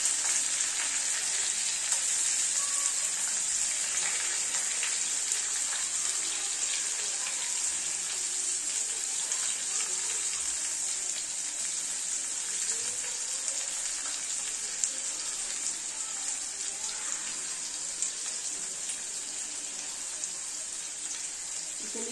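Finely chopped onion and curry leaves fry in a pan for mataki usal with a loud, continuous hiss that stays even throughout, with no voices.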